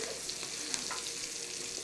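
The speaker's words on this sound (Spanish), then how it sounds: "Entonces se va friendo." Chicken pieces fry in hot oil with a constant, fairly quiet hiss and scattered crackles and pops, a steady sizzle with no talk over it.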